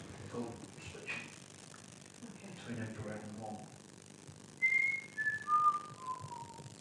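Faint whistling during a ghost hunt at Pendle Hill Farm, a short run of four thin descending whistled notes heard after quiet, muffled talk in the room.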